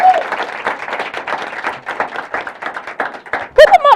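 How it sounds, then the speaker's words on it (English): An audience claps for a woman at a live call event, with scattered applause running throughout, underneath a man's speech that continues over it. "y'all can clap for Denise"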